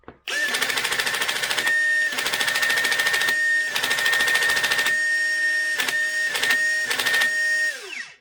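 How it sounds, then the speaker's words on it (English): Nerf Stryfe blaster flywheel motors, one loose in its cage, whirring in several bursts with a steady high whine and rattly buzz, close and loud, stopping and restarting. "both of the motors are turning, but that one's loose"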